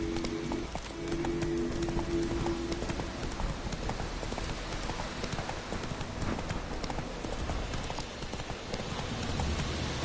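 Galloping horse hooves in The Witcher 3: Wild Hunt, a steady rapid clip-clop running throughout over a constant rain-like game ambience, with a brief voice near the start.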